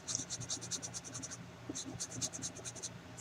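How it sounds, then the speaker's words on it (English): A pastel pencil rubs on paper in quick repeated scratchy strokes, close and quiet, in two bursts with a short pause between them, in a calm room with no talking. "all I hear is the sound of the pencil rubbing on the paper"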